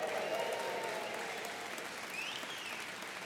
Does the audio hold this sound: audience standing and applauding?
yes